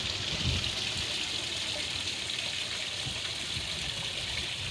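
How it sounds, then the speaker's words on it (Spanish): A small waterfall with water pouring down continuously: a steady, full rushing wash heard close, unbroken for the whole stretch, with no voices. "Qué belleza como cae el agua"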